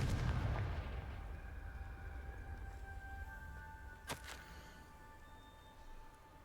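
A Confringo blasting spell explodes in the Hogwarts Legacy video game: a deep boom at the start decays into a low rumble, with a sharp crack later and faint sustained magical tones underneath.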